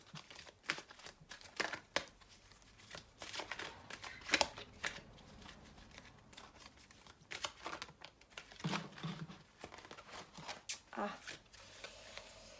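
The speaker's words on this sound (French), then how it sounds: "Bon, toutes les cartes se mélangent à l'endroit, à l'envers." Tarot cards are shuffled by hand in quick irregular bursts of papery riffling and flicking, close and fairly soft, with a voice speaking quietly in between.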